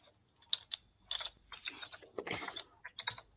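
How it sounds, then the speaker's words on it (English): Quick irregular clicking of keys being typed on a computer keyboard, close and fairly crisp, in short bursts with brief pauses. "Are you typing something to her?"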